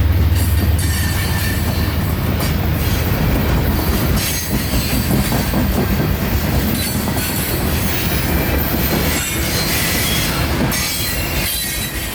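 A heavy freight juice train rumbles past close by in Florida, wheels clattering and squealing continuously on the rails, loud and unbroken throughout.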